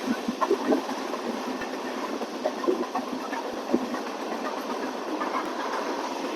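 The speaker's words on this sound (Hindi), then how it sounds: "तो ट्रेन हमारी धीरे धीरे अप्रोच कर रही है राजेंद्र नगर टर्मिनल।" A train rolls slowly toward Rajendra Nagar terminal, giving a steady, close rumble with faint wheel clicks and no voices.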